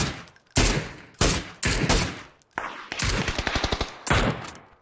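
Loud PUBG gunfire comes in distinct bursts: single heavy shots spaced about half a second apart, then a rapid automatic volley and a final shot, nearby and uncovered by talk.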